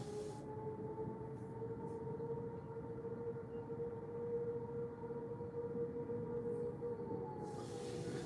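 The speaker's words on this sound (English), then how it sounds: "is that a siren in front of me?" A distant civil defense siren sounds during a tornado warning, a faint steady wail held over low background rumble with no talk.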